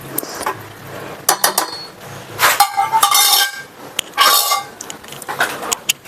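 A spoon scrapes and clinks against a metal cooking pot while bagara rice is mixed, in a few short bursts of clattering strokes with quiet pauses between them, close up and alone.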